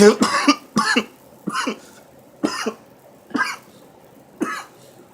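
A person coughs six times in a steady series of short, sharp, close bursts separated by brief pauses.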